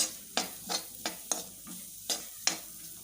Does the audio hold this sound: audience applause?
no